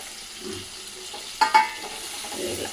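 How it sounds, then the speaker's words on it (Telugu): Boiled irakaya being gently stirred into curry in a pan, with soft sizzling and scraping throughout and a pair of sharper clinks near the middle, close and fairly quiet, no talk. "మంచిగా కలపాలి, ఇరకాయ ఇరిగిపోకుండా కలుపుకోవాలి స్లోగా ఇట్లా"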